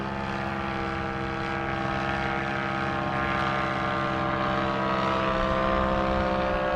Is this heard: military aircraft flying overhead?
yes